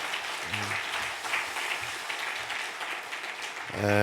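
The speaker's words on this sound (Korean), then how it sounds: "우리 힘찬 격려의 박수 한번 보내겠습니다" A church congregation claps steadily throughout, with a low voice faintly audible beneath the applause.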